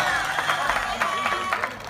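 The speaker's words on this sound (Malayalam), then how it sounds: "ഉഷാറായിട്ട് കൈയടിച്ചാൽ ജോലി" Applause and crowd noise from the audience at a Malayalam Mappilappattu stage show, a steady wash of clapping held at an even level for nearly two seconds before easing slightly at the end.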